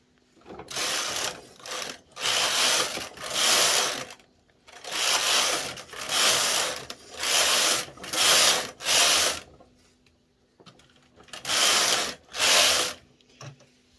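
A knitting machine knitting a shoulder off on chunky yarn, the carriage swept back and forth in repeated loud rasping, ratcheting passes of about a second each, separated by short pauses, close up with no talk.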